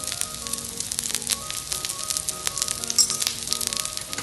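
Whole urad dosa, Udupi Karkal style, sizzling in a little oil on a hot pan: a loud, steady, close hiss with dense crackling pops throughout.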